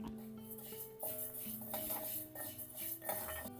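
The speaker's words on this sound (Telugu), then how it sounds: "పొయ్యి మీద గిన్నె పెట్టుకొని" A metal pot clatters as it is set down on a stovetop, followed by light utensil clinks and scraping, fairly quiet with a musical backdrop.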